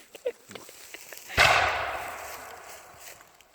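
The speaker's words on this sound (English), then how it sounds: "That was a volley by the French." A musket volley fired by French troops at a war reenactment in Warren, Pennsylvania: one loud, sharp blast with a long rolling echo, heard from a moderate distance. Faint voices and small noises come before it.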